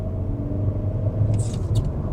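Engine and road rumble of a Volkswagen T-Roc SUV driving and accelerating, heard from inside the cabin as a steady low drone, with a faint brief sound near the end.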